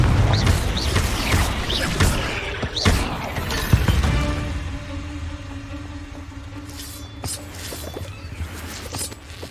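Confringo, a blasting spell in Hogwarts Legacy, explodes in a cave with a sharp crash and shattering bursts early on, then rumbling debris fades to a quieter hum, with no talking heard.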